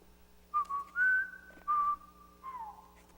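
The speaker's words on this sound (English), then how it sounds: "He just seems to whistle." A person whistles a short melodic phrase in several clear, sustained notes with brief gaps between them, close and fairly loud over a quiet background hum.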